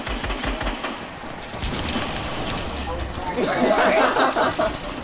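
Rapid video game gunfire rattles in bursts, sometimes close and sometimes further off, beneath excited players talking over it.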